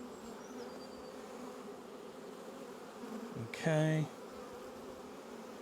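Honeybees buzzing around opened hives and frames in an apiary, a constant close swarm drone filling the background, with a brief spoken word and a short louder tonal burst near the end.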